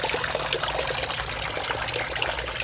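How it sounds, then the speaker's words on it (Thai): Water flows steadily at a fish-feeding spot beneath a market, making a constant close trickling and splashing rush with no voices. "มันน้ำไหลไง"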